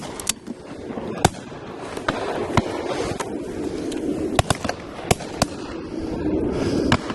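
Shotgun blasts at partridges on a driven shoot, sharp cracks scattered irregularly across the span, several in quick pairs, over a background of wind and outdoor rustle.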